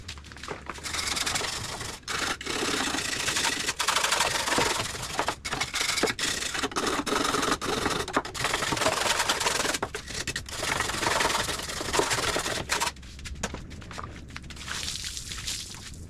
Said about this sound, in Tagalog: tas kung alin pa yung kailangan lihain